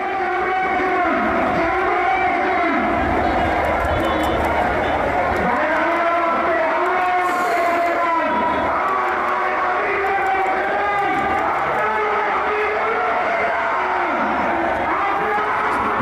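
A large crowd chants slogans at a rally in Bangladesh, a dense continuous roar of many voices with rhythmic surges, loud throughout, and a reporter talks over it.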